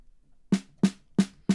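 Four sharp, bright snare drum hits, evenly spaced and isolated, each with a punchy crack and a slightly raised, tight pitch.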